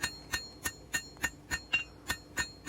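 Hammer blows on hot steel, drawing down the bit end of a rapid tongs kit blank to make blacksmith scrolling tongs; eight evenly spaced ringing strikes about three per second, close and clear with no talking.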